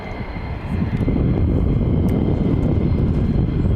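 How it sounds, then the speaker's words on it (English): F-35 fighter jets fly back toward RAF Lakenheath, a broad rumbling engine roar that swells within the first second and then holds loud and steady to the end. "The F-35s are coming back as well now."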